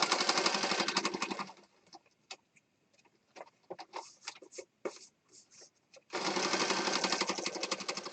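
Sewing machine stitching through fabric in a mixed-media craft piece: loud, fast steady whirring runs for about two seconds, stops for a stretch of small handling clicks and taps, then starts again at full speed.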